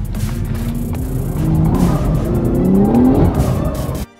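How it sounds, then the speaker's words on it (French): A car engine revs hard, its pitch climbing steadily over a few seconds at close range before cutting off abruptly near the end. "Elle s'emballe cette voiture"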